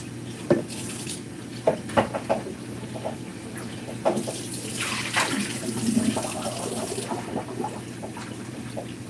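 Tap water runs steadily into a sink while a cup is rinsed out during smoothie making in a kitchen, a continuous wash of flow broken by a few sharp knocks and clinks of the cup, close and moderately loud.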